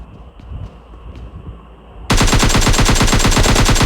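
Sustained automatic gunfire from the battle royale game PUBG/BGMI bursts in halfway through as a loud, rapid, evenly spaced stream of shots. Quieter game ambience with a few soft thuds comes before it.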